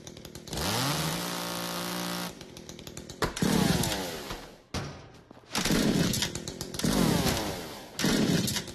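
Chainsaw in the video game Death Horizon: Reloaded, revving in loud sustained bursts with rising and falling pitch, separated by short gaps, up close with no talking.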